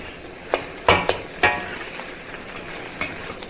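Beef stir-frying in a wok over high heat sizzles steadily while a utensil scrapes and clinks against the pan in a few sharp, irregular strikes, close and fairly loud with no talking.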